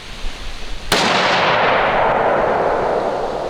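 A single sharp, loud hunting rifle shot fired with Remington 150-grain Core-Lokt Tipped ammunition at a 100-yard range, followed by a long fading outdoor echo and no talk.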